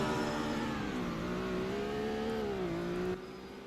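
A race car engine in the racing video game SLC GTI Grand Prix of Sweden holds a sustained, fairly quiet droning whine that wavers slightly in pitch, then drops away abruptly just before the end.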